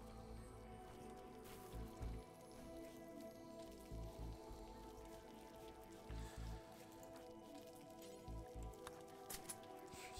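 Rain falls steadily in the colony-building video game RimWorld, a soft, faint patter that continues throughout beneath a quiet bed of game music.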